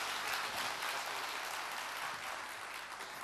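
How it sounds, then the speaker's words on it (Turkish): Audience applause for honoured mayors at a Bingöl community evening gathering, a dense, steady wash of clapping from a crowd that continues without a break and eases slightly toward the end. "Evet, alkışlarımızı size gönderiyoruz sayın başkanlarımızı."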